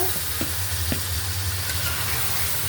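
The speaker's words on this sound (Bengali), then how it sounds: "দিয়ে দিব মশলাটা দিয়ে তো তেল ছেড়ে দিচ্ছে মুরগিটা, ভাজা মুরগিটা" Chicken cooks in oil with garam masala and a little sugar, giving a loud, continuous sizzle over a low hum, with a few clinks from stirring early on.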